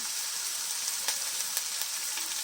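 Curry leaves, mint, coriander and ginger-garlic paste sauté in a hot pan, giving off a steady, close sizzle with small crackles and no voices.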